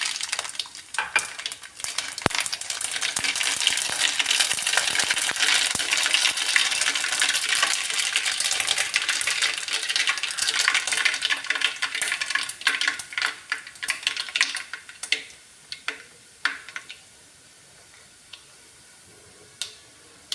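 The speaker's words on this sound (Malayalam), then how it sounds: "നല്ലെണ്ണ നന്നായിട്ട് ചൂടായതിന് ശേഷം അതിലേക്ക് 1 സ്പൂൺ കടുക് ഇട്ട് കൊടുക്കാം." Mustard seeds crackle and pop in hot sesame oil while a lemon pickle is made, giving dense, loud spattering that thins to scattered, sparser pops toward the end.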